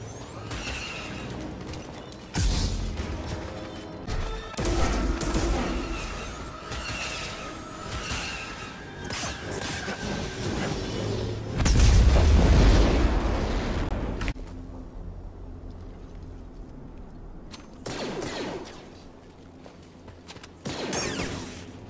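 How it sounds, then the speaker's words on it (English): Walker firing heavy weapons in the video game Star Wars Jedi: Fallen Order, repeated booming blasts and rumbling impacts in bursts over a battle soundscape, with a whinnying creature cry mixed in and a quieter lull near the end. "we've got a walker firing on us"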